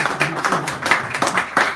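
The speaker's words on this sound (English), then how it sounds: "So give him a nice round of respectful applause there." Scattered hand claps from a small audience at a poetry hour in a San Francisco café, greeting a young poet; distinct individual claps arrive in loose, uneven bursts, close and fairly sparse.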